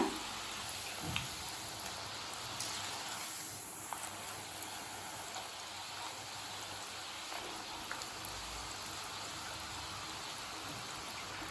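Steady bubbling sizzle of murukku frying in hot oil, a dense crackling hiss that continues throughout with a few small pops, fairly close.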